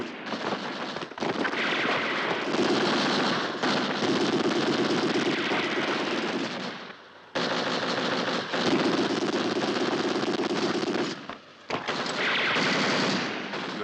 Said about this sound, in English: Take cover! Into the ditch and return fire!